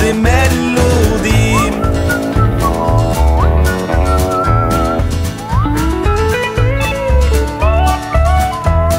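A man whistles a lively, quirky melody over a bouncy Norwegian children's car-song accompaniment, the whistled tune loud and continuous throughout.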